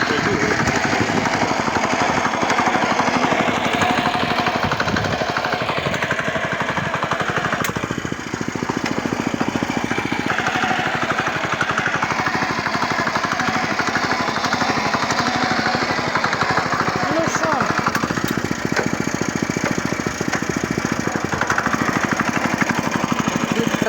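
A walk-behind tractor (motoblock) tills soil with a steady, loud, continuous engine drone and rattling tines, sounding close for the whole stretch, with brief dips in the noise.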